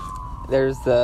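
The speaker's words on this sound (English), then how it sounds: "come on, ambulance, you ruined the podcast" An ambulance siren wails outside, a brief tone heard through a room indoors, with a person talking over it nearby.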